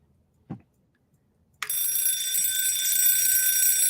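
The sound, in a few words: vintage alarm clock alarm ringing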